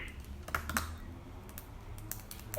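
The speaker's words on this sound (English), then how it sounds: "Let me type it out here." A computer keyboard is typed on in a quick, brief burst of light clicks, close and moderately quiet over a steady low room hum.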